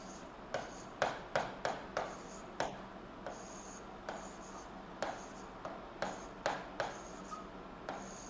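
Chalk or marker tapping and scratching on a classroom board during a geography lesson, a steady series of short, sharp strokes repeating about every half second, close and fairly faint.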